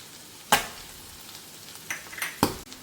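Curry leaves hit hot ghee in a pan of Mangalorean squid ghee roast: a sharp sizzle bursts out, dies down, then flares again in a couple of short crackling spurts.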